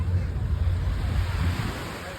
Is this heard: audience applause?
no